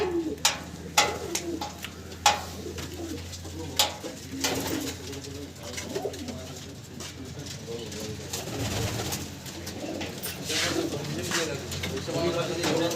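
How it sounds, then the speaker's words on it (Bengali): Pigeons packed in a cage inside a loft coo in low, repeated rolling calls, overlapping continuously and close by, punctuated by occasional sharp clicks and taps. "এই লফটে এবার এই খাঁচায় দেখাচ্ছি কিছু পায়রা"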